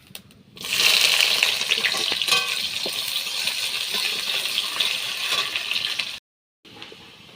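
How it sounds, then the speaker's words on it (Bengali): Onion fritters sizzle in hot oil after a dry-chilli tempering, part of a snail and potato dish. A steady, close, loud frying hiss runs for several seconds, then breaks off briefly and resumes quieter. "তো পেঁয়াজিগুলো তো লাল লাল করে ভাজা হচ্ছে"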